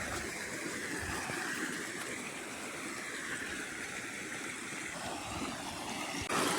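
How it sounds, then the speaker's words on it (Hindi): Broad, steady wash of flowing water from a running water pump motor on a farm field, continuous and fairly loud throughout with a low rumbling body and no speech. "ये देखिए दोस्तों, ये चल रही है मोटर"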